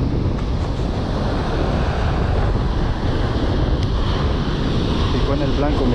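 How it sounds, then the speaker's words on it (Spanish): Ocean waves wash against a shore near a pipe that breaks their force, a loud, steady roar mixed with heavy wind buffeting the microphone, and a person talking at times. "aquí las olas no pegan tan fuerte porque el tubo las detiene"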